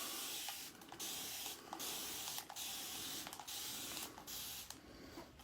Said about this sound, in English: I'm going to give it a spray right now.